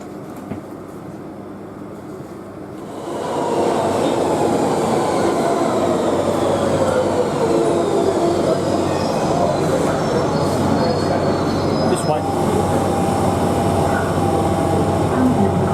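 An electric passenger train, such as a Class 315 or 317, rolls past loudly after a quieter start, its wheels rumbling and squealing steadily on the rails at Old Oak Common.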